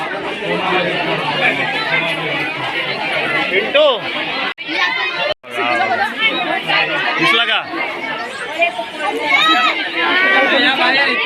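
A dense crowd of zoo visitors at Rani Baug in Byculla chatters loudly and continuously nearby, with many overlapping voices and children's cries and only two brief dropouts.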